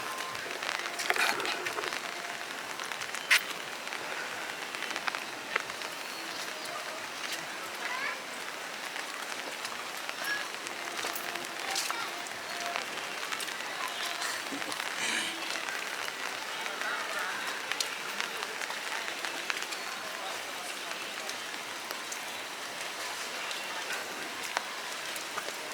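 Rain falls steadily at the Kamakhya temple, a continuous hiss of drops pattering on hard surfaces with occasional sharper taps, fairly soft and even throughout.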